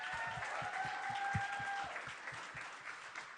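Audience applauds steadily at a school telethon event at Suffield Academy, dense clapping filling the room with a brief whistle-like cheer riding over it.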